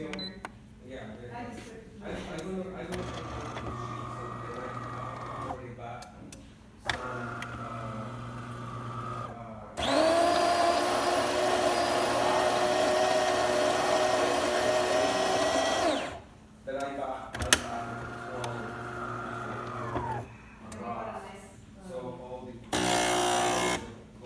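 A DeLonghi espresso machine, just back from a full service, pulls a test shot: a loud, buzzing pump drone of several seconds set between quieter grinding and clicking noises, with a person talking in the pauses.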